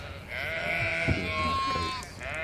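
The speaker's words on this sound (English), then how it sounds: "this cave is filled with goats" Black goats bleating in a cave during a horror game session, several overlapping wavering cries, close and continuous, with a faint thump partway through.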